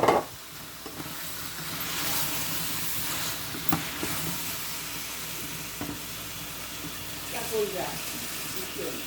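Tomatoes dropped into a frying spice paste in a pan, a steady close sizzle with scattered utensil knocks and stirring, while faint background voices murmur.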